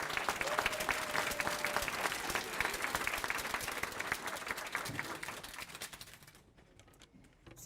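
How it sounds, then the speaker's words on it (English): At a city volunteer appreciation celebration, a crowd applauds the behind-the-scenes awardees with brisk, crackling claps that hold steady, then thin out and fade toward the end. "So now you can give another round of applause for all 4 of the behind-the-scenes awardees."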